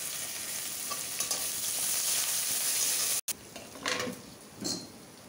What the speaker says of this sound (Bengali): ফোড়ন দিচ্ছি